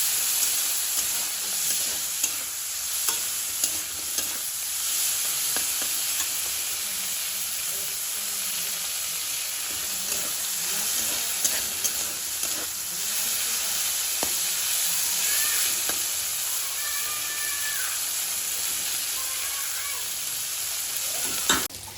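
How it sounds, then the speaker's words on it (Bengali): Prawns crackling as they fry in oil in a wok until reddish, a continuous near sizzle broken by frequent stirring scrapes and small pops. "চিংড়ি মাছগুলো লাল লাল করে ভেজে নিতে হবে।"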